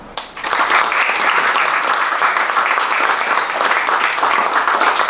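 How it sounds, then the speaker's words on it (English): Audience applause at an honors ceremony for Ieske Iehse's Grand Cordon of the Order of the Rising Sun; a full room claps steadily and loudly throughout, dense and sustained, with no talking over it. "So let us give Mr. Iehse a big round of applause."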